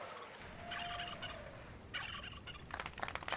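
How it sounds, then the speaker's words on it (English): A turkey gobble sound effect plays at a Thanksgiving giant snail race, rattling in three short bursts over steady background hiss, with the last burst the loudest. "Oh, there's the turkey sound."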